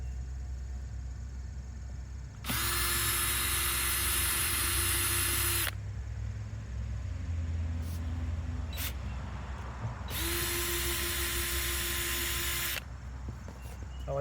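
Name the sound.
power drill unscrewing screws to open septic tank lid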